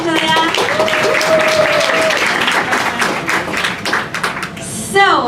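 Audience applause after a talk at a tech event, a steady burst of clapping that swells and then fades, with speech and a few brief tones mixed in and a louder flourish near the end.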